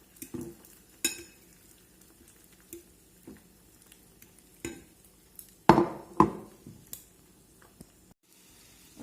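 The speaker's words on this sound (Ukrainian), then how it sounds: "картопелька наша підсмажується" Potatoes fry in a pan for a dish with egg, the quiet kitchen broken by scattered clinks and scrapes of utensil against pan, with a louder clattering burst midway and faint sizzling between.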